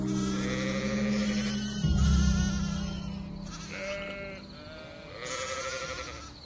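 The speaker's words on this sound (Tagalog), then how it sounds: "binubugaw ng tungkod ang mga kambing na" Goats bleat several times while a herder drives them along with a cane outdoors, the wavering calls overlapping at moderate distance over a constant background hum, with no talking.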